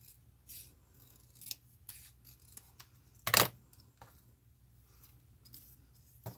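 Scissors trimming paper at a craft table, a few light snips with one sharp, louder cut in the middle, close and quiet with no talk.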